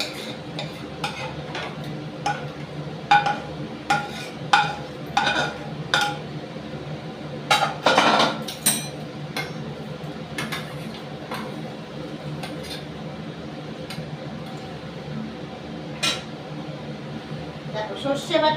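Spoon clinking against a small bowl while mixing in a home kitchen, irregular light taps and scrapes close by, with talk running throughout.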